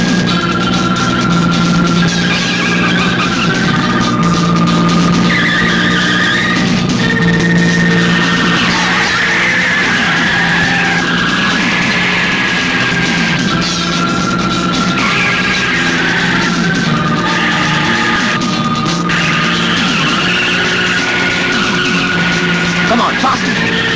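A car driven fast in a chase, its tires skidding and squealing in long sustained screeches over a loud, continuous engine roar, with shouting voices mixed in.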